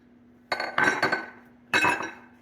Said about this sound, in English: You're going to put it in a microwavable bowl.